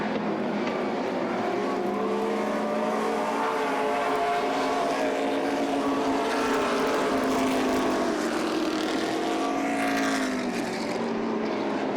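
Race cars roar around an asphalt oval at the Oxford 250, a dense, loud, continuous engine drone with rising and falling pitch as several cars pass together, no talk over it.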